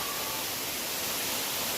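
A steady, broad rush of falling water fills the whole clip, dense and unbroken like a large waterfall heard from nearby.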